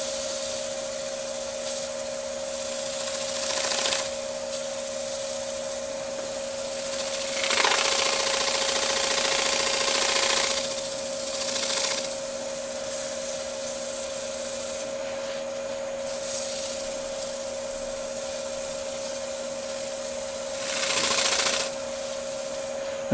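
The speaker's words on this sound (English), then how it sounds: "I can start buffing that in." A towel buffing finish into freshly turned green wood on a lathe, with a steady motor hum underneath and several louder bursts of rubbing friction spread through the stretch, no talk.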